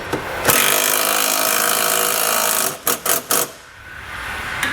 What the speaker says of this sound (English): use that same 13 millimeter socket to tighten it back up